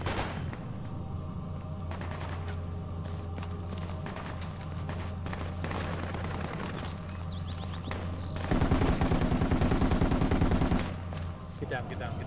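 Machine gun bursts in the video game Project Reality, rapid repeated gunfire that grows louder and denser for a couple of seconds near the end, with scattered shots and game noise before it and no talk.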